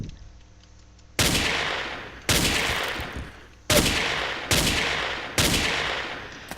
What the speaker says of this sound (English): So go up to the wall, crouch, shoot.